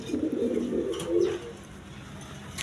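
Satin pigeons coo in a low, throaty warble, a couple of close calls in quick succession followed by quieter background noise.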